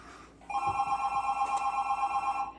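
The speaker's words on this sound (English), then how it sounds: "who's ringing?" A telephone rings indoors with a steady, bright electronic trill that starts abruptly and continues to the end, moderately loud with no voices.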